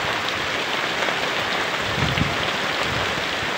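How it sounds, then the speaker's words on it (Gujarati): Heavy unseasonal rain falls during a thunderstorm in a village in Dediapada taluka, Gujarat. The downpour makes a steady, close roar, with a few soft low thumps near the middle and no speech. "ગાજવીજ સાથે બહુ ભારે વરસાદ છે."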